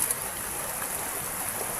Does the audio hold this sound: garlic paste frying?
no